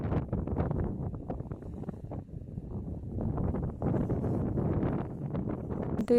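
Strong wind buffets the microphone in a steady, rumbling roar that dips briefly before gusting again.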